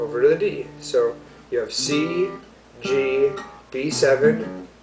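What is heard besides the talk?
No everyday noises stand out.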